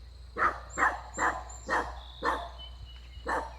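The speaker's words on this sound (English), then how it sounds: "This dog is just having a fit." A dog barks agitatedly in a repeated burst of about eight loud, evenly spaced barks nearby during a morning walk, with a faint tonal hum behind and no talking.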